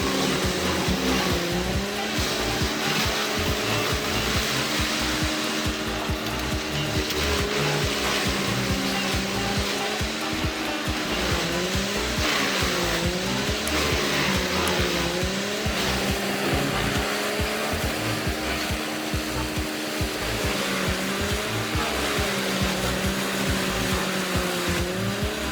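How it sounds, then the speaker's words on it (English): A Chipper Energy 30-60 wood chipper shreds large birch tree tops while clearing forest, its engine roaring loud and continuous, with the pitch sagging and recovering as the drum bites into wood. "I really like this Chipper Energy 30-60 chipper because the chip drum is flexible and easy to change"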